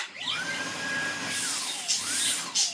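A Dyson DC49 digital cylinder vacuum cleaner runs with its hose clipped and no airflow, its high motor whine holding steady, then swooping down and back up as it pulses, close and loud with no talk.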